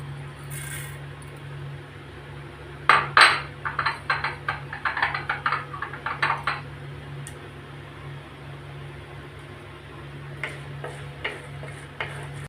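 Lentils (parippu) crackle and pop in hot oil in a clay pot. A cluster of sharp ticking crackles rises over a steady low hum, then fades to sparse pops.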